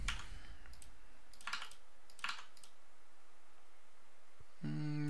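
Keys clack on a computer keyboard as a Control R shortcut is typed: a few quiet, close clicks spaced apart, followed by a brief tonal sound at the end, with no talking.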